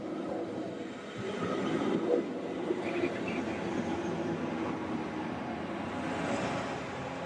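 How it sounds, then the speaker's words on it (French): A shuttle train runs at the station in Bergün, Switzerland, in a sledding area. Its low, steady rumble and rolling noise carry on evenly from a moderate distance, with no talking. "De retour en gare, la navette continue inlassablement ses rotations."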